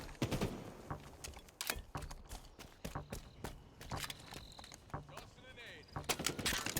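Halo Infinite multiplayer match: bursts of rapid weapon fire and scattered single shots cut in and out over footsteps, with game announcer voice lines spoken between them.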